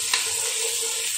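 Half a potato frying in a pan over a medium-to-low flame for pulao, a bright, dense sizzle that holds steady and close for about a second.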